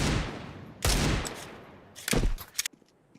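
Bursts of pistol fire from Desert Eagles and Tec-9s in a Counter-Strike 2 match: a loud opening volley, then a second cluster of sharp rapid shots about two seconds later, with faint background noise in between.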